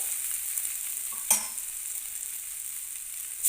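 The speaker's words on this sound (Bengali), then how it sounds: "সয়াবিন এবং আলুকে মশলার সঙ্গে আমি জাস্ট মিনিট দুয়েক কষিয়ে নিয়েছি" Soybeans and potatoes with spices fry in a pan, giving a steady close hiss of sizzling oil broken by a single sharp spoon clink against the pan.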